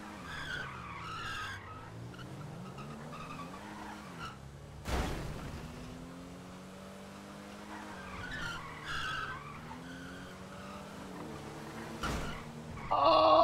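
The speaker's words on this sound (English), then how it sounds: "Some drifts around the parking lot." Trucks drift around a parking lot, tires skidding and squealing in long sweeping wails over engine drone, with two sharp bursts and louder squeal rising at the end.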